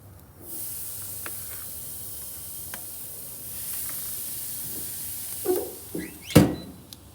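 Pork chops sear on a Masterbuilt Gravity Series charcoal grill running at 650, giving a steady high sizzling hiss with a few louder pops and thumps near the end.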